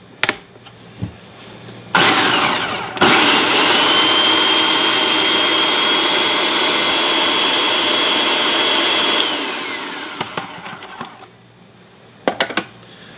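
Blender purees an egg for coconut bread batter, whirring loudly and steadily for about six seconds after a short start, then winding down, with a few clicks and knocks around it.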